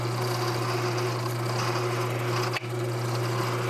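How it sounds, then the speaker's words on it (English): A drill steadily bores through a wooden dowel, giving a continuous close grinding whir with a constant motor hum, briefly catching once midway. "So I'm rotating it as I drill so that it will even things out"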